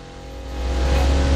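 Engine of a car revving up under acceleration in Forza Horizon 4, played on a Fanatec Clubsport wheel, a steady low drone that swells gradually louder over a second and a half with no talk.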